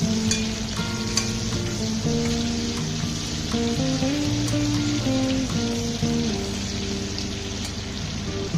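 Chopped ginger and green chili frying in oil for homemade chili chicken produce a steady crackling sizzle with faint stirring ticks, heard beneath melodic background music throughout.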